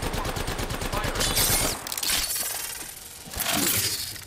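Gunfire in the Apex Legends video game: a rapid burst of automatic shots in the first second and a half, then sharp crackling impacts and scattered bangs, loud and close.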